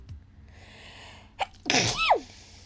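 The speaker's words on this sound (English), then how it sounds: "Well, I'm about to sneeze." A single loud human sneeze bursts out after a brief sharp inhale, close and isolated against quiet background.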